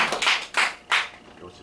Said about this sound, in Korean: 박수 한번 치고 가야 되겠어